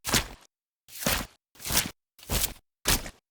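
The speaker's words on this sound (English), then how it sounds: "Here are my mud footsteps." Five evenly spaced, heavy squelching footsteps in mud, designed as game sound effects for the Unity 3D Game Kit, each a thick wet impact separated by silence.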